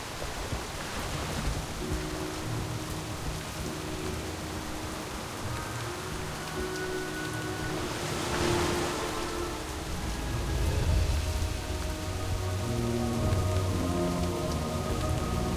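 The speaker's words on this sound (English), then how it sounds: "I hope this rain isn't a bad omen." Steady World of Warcraft rain patters and hisses across a surface for the whole stretch, with a dull low rumble swelling in the background.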